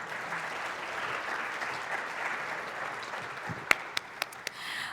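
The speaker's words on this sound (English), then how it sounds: "Let's give our panelists a big round of applause." Steady audience applause greeting a panel at an event on agentic AI, a dense wash of clapping that holds for several seconds before a few louder, isolated claps near the end.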